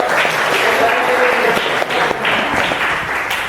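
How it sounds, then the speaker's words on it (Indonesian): A high school grade 12 class applauds in a classroom, steady dense clapping from many students lasting throughout, close and loud. "Kasih aplaus untuk 12H."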